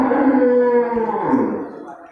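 A cow at a livestock market lets out a single loud, drawn-out moo that slowly falls in pitch and fades over about two seconds.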